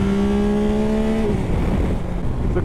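A Yamaha Tracer 9 GT+ motorcycle accelerates with a loud, close, rising engine note that holds steady, then drops abruptly as it shifts and carries on in a rougher, lower roar.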